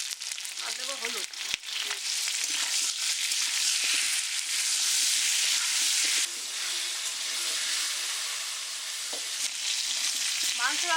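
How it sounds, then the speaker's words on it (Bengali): Potatoes frying in mustard oil in a hot wok (karai), a loud steady sizzle and crackle filling the whole stretch with occasional stirring scrapes, while a voice speaks briefly in the background. "প্রথমে আলুগুলো আমি ভেজে নেব।"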